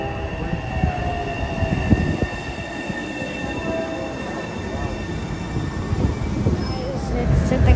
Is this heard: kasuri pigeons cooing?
no